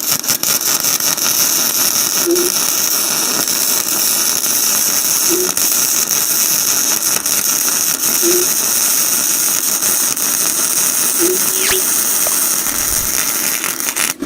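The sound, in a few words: HITBOX MIG250 welding machine welding a seam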